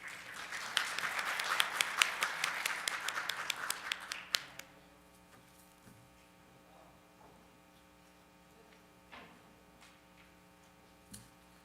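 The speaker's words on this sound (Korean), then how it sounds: "여러분 큰 박수 부탁드립니다" Audience applause at the Digital Economy Forum 2018 keynote, moderately loud clapping for about four seconds that cuts off abruptly, leaving a low electrical hum and faint scattered ticks in a quiet hall.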